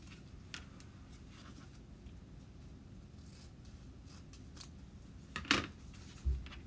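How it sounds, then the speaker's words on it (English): Scissors trim the edges of a paper craft piece, a few quiet snips and one sharper cut near the end, close up over a low steady room hum. "I'm going to trim these edges."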